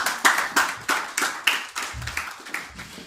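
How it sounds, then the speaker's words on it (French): Applause from a church congregation, clapping in loose rhythmic bursts, fairly close and steady with a few low murmurs underneath, no clear speech over it. "On peut applaudir pour eux."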